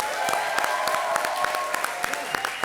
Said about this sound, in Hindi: परेश जी के लिए एक बार जोरदार तालियां